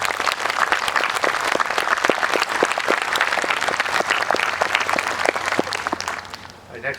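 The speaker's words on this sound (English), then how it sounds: "Let's have a round of applause for all our award winners." Sustained applause from a graduation ceremony audience honoring award winners at Quinebaug Middle College's Class of 2021 graduation, dense steady clapping throughout that tapers slightly near the end.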